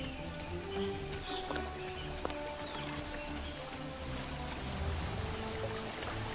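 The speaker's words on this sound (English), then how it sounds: "Oh, there we are. There's the running water." Running water in a video game, KeepUp, flows steadily with a soft rushing wash, accompanied by faint clicks and a few scattered knocks, moderately quiet and without talk.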